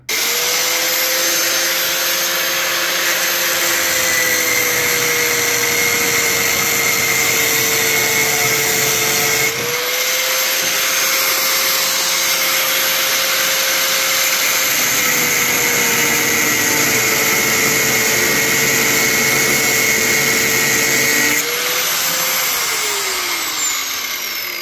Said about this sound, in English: I like to take my little cutoff wheel on my side grinder and cut these bolts off